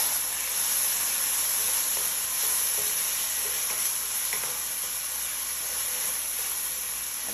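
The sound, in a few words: mixing fish with sliced tomato in frying pan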